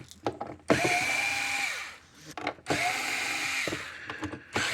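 A power screwdriver whirs in two sustained bursts, backing screws out of a Gallagher W210 weigh scale, close and fairly loud, with small clicks and handling noises between them.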